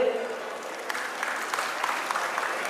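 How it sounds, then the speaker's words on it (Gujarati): Audience applause at a 72nd birthday celebration for Jitendrasinhji Rathod, a steady dense patter of many hands clapping throughout, moderately loud, with no clear talk over it. "ચાલો આપણે તાળીઓથી એમને વધાવી લઈએ"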